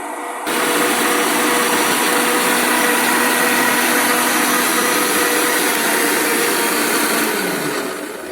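A kitchen mixer grinder whirs through spices for a mashed potato dish, a loud, steady high-pitched motor roar starting abruptly and running for about seven seconds before winding down, with no talk.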